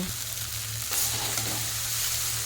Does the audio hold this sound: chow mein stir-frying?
yes